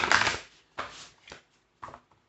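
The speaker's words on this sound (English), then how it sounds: "Shuffle, riffle up well here." Tarot cards being shuffled and riffled by hand during a reading, heard as one long loud riffle burst followed by three shorter, softer shuffling sounds, close and with no talking.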